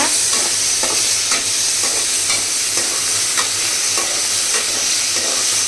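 Tomatoes sauté for a chicken gravy, giving a loud, steady sizzle close by. Soft stirring scrapes are spaced through it, and nobody talks.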